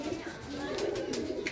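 Pigeons coo softly in a loft, a low steady murmur of calls filling the space with faint brighter flutters on top.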